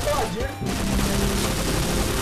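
Rapid, dense gunfire from a video game shooter rattles continuously and loudly for the whole stretch, with a brief dip near the start and layered booms underneath.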